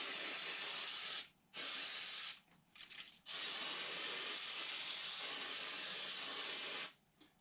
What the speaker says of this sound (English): you take your cooking spray